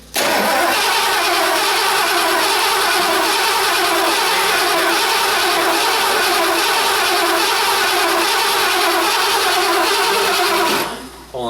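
A Ford 460 V8 cranks and catches almost at once, then holds a loud, steady running roar close by for about ten seconds before cutting off abruptly near the end.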